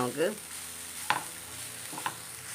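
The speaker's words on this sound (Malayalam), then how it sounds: "തേങ്ങ ഒന്ന് വറുത്തെടുക്കാം." Coconut sizzles and roasts in a hot pan, with a couple of sharp scraping stirs breaking the steady frying hiss.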